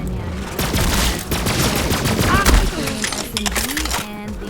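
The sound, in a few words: gun shooting in Borderlands video game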